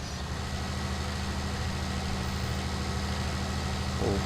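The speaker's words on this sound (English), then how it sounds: "We'll park the tractor facing the other way." A tractor engine idles nearby, giving a steady low throbbing rumble with a constant even pulse that carries on throughout, with no talking.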